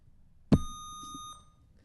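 A quiz buzzer at a regional science bowl competition sounds once as a player tests it: a sharp electronic tone lasting under a second, with a sudden start, in an otherwise quiet room.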